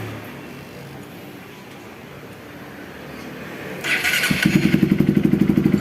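A Honda CRF150L motorcycle starter whirs and the engine catches, settling into a fast, steady idle thrum up close.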